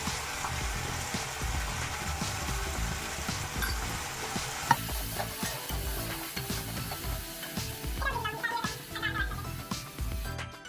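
Spices fried and stirred in a pan for vegetarian daliya khichdi, a continuous close sizzle with scraping spoon strokes throughout and a sharp clack midway, no talk.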